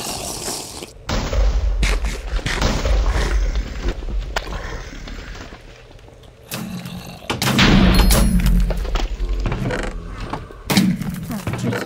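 Gunfire in a Minecraft Hypixel zombie minigame, dense bursts of shots and thuds running almost continuously, loud and close, with a brief lull midway before heavier firing resumes.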